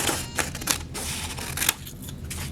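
Scissors cut through folded origami paper in a quick series of close, crisp snipping and rustling bursts.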